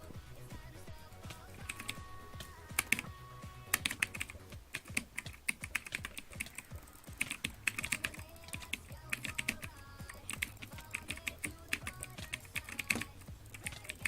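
Fingers type on a new computer keyboard in a quick, uneven patter of crisp clicks and clacks, close and continuous throughout, with occasional louder key strikes standing out.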